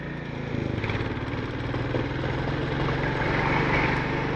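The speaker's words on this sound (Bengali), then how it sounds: "লাখতারিয়ে যে টি স্টেট আছে তার মধ্যখান দিয়ে বাইক চালিয়ে যাচ্ছি" A motorcycle engine drones steadily as the bike rides through the Lakhtaria tea estate near Darjeeling, holding a constant low hum close by with slight surges in intensity.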